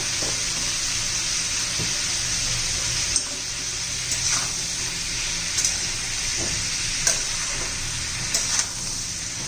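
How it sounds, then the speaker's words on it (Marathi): Mixed vegetables sautéing in oil with salt make a steady, even frying hiss, with a few soft taps and scrapes of stirring spaced throughout, close-up and without talking. "याला दोन तीन मिनटं परतून घेते हे परतताना आपण थोडंसं मीठ घालून घेऊया"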